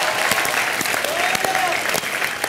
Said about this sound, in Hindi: खैर सुरेश मेनन जी के लिए जोरदार तालियां हो जाए।